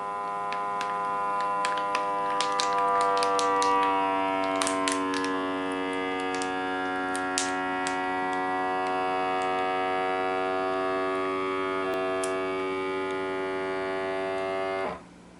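A Pendoo vacuum sealer sealing food in normal mode gives a steady motor drone with a buzzing hum and faint ticking clicks, running evenly for about fifteen seconds before cutting off abruptly.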